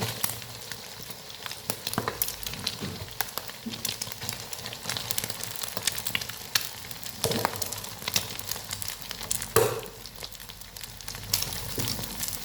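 Leftover cooked rice and garlic fry in a hot pan for egg fried rice, giving a steady, moderately loud sizzle with scattered crackles and a few louder stirring scrapes, with no talking.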